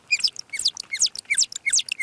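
Humpback whale song sped up fourteen times, turning into a rapid series of high chirping, bird-like sweeps repeating in quick rhythmic phrases, clear and alone with no talk.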